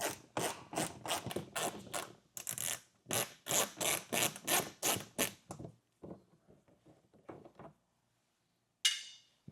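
Rapid ratcheting bursts as 5.5mm screws are backed out inside a car's wheel well during a tow base plate install, a quick series of close clicking pulses, then softer scattered clicks and a brief final rattle.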